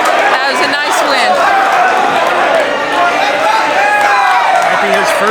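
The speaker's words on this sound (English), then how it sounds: "Nice, the fans are cheering for him." A crowd at a high school junior varsity wrestling match cheers and chatters loudly and continuously in a gym, with voices overlapping throughout.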